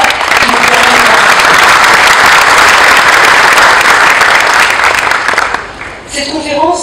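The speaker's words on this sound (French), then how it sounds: "je souhaiterais, mesdames et messieurs, vous demander d'applaudir très chaleureusement les organisateurs" Sustained, dense applause from a conference audience for the organisers of an international conference, loud and steady for about six seconds before thinning out, with a voice starting to speak at the end.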